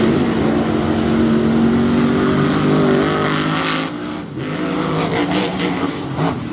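A Ford-powered Overkill Evolution and a Ram Raminator truck roar side by side in a drag race, the engines blaring loud and steady at close range before dipping briefly and surging again.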